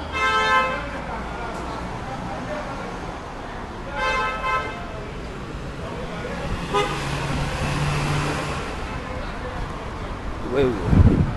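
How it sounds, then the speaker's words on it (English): Busy Tel Aviv street traffic with cars passing, several short car horn toots and longer honks scattered throughout over a constant roadway hum, with brief indistinct voices. "Traffic in Tel Aviv, very, very trafficy."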